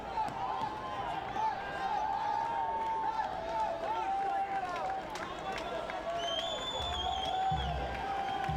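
A baseball crowd at a Ducks vs FerryHawks game rumbles and cheers with rising excitement before a two-strike pitch, the noise sustained and fairly distant beneath an announcer's commentary.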